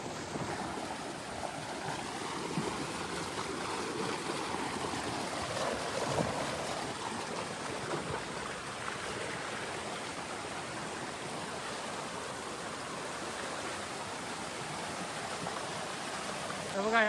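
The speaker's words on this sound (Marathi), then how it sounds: "पाणी वाहायला भरपूर आहे." Rain-swollen stream water flowing steadily through a dense forest, a continuous close rushing wash with no clear breaks over the whole stretch.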